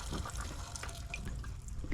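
Drinking water runs from a freshly fitted tap aboard a sailing boat, a steady close splash with faint drips over the hiss of flow, continuing for the full two seconds with no voices.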